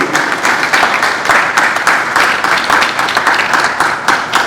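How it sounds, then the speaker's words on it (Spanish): An audience at a philosophy congress in Santo Domingo breaks into applause, a dense, loud, steady clapping that holds for several seconds. "vamos a darle un aplauso a esos dos"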